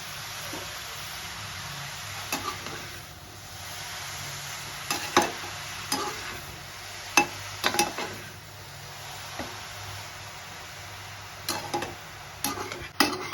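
Grated carrots sautéing in ghee for gajar halwa give a steady soft sizzle, broken by scattered spatula clicks and scrapes against the pan, with no voices.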